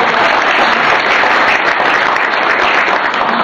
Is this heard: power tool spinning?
no